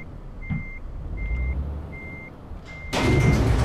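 A truck reversing in Euro Truck Simulator 2 sounds its backup alarm: four evenly spaced single beeps over a low engine rumble, followed by a loud burst of hissing air at the end.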